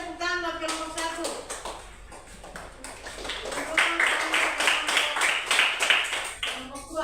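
Applause from a grade-four primary school class in Indonesia for the first student group: a dense run of clapping swells in after brief talk and carries on fairly loud for several seconds before tapering.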